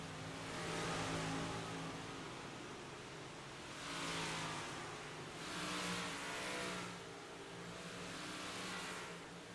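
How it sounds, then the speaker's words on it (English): A red dirt-track race car, one of the 358 Mods or PLM class, roars past on a Friday night dirt oval, its engine swelling and fading in repeated loud passes amid continuous pack noise. "That's the red car that just went by."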